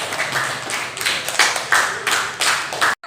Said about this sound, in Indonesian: silakan beri tepuk tangan untuk Tias